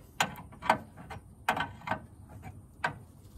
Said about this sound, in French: Clé de 17, on resserre.